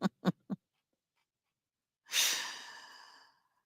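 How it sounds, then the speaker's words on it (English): One person's long, breathy yawn rises after a few short breaths and trails off slowly over about a second and a half. It is close, alone, with no talk, heard during a late-night live stream. "and now I'm yawning"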